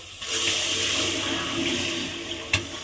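Water poured from a bowl into a karahi holding a bowl of sugar to make syrup, a steady close splashing rush lasting nearly three seconds with a short sharp clink near the end.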